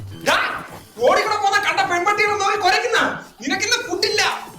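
A dog barks several times in short, sharp bursts at close range, interleaved with people talking.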